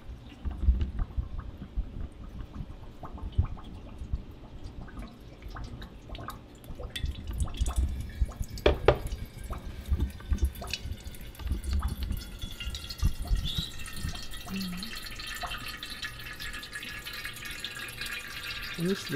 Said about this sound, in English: I'm just gonna pour some water in and just cycle some water through.